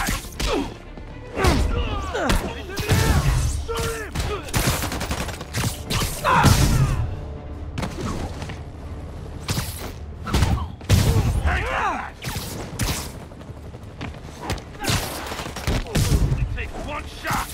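Enemy gunfire in Marvel's Spider-Man, rapid bursts of shots and impacts mixed with thuds, whooshes and game music, while characters shout over the action.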